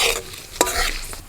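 Dried red chillies, a bay leaf and a pinch of asafoetida sizzle in hot oil for a chana dal, a brief crackling fry with a sharp stir or clatter midway, close and alone.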